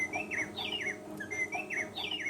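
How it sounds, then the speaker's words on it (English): A MECO wireless doorbell chime plays recorded birdsong: repeated chirping, warbling phrases in quick sequence, faint and clear with no voices. "There's some bird noises."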